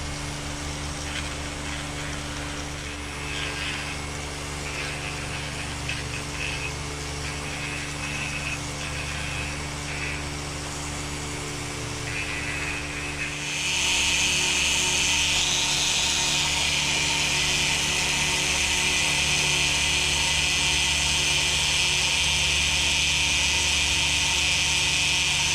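A power tool with a coarse bit smooths carved wooden deer antlers, a steady high-pitched whine that grows louder and harsher about halfway through, continuous and close, with no talking.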